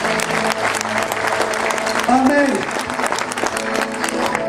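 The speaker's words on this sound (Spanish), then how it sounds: "Denle aplausos al Señor allí." A church congregation in Riobamba, Ecuador claps steadily, a dense wash of applause that continues throughout, with a voice briefly speaking over it in Spanish near the middle.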